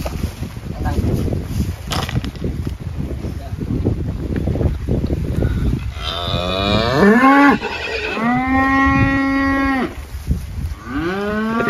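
Belgian Blue cattle moo loudly in a series of long, drawn-out calls after a stretch of windy outdoor noise and murmuring voices at a livestock show.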